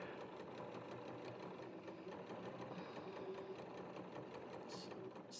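A sewing machine runs steadily through a single row of stitching on watermelon-print fabric, a close, continuous rapid whir with a fine rhythmic clatter.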